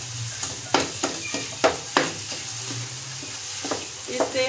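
Khoya roasting in ghee with carrot halwa, a spoon stirring through it in a series of scraping strokes over a soft steady sizzle, close up and with no talking.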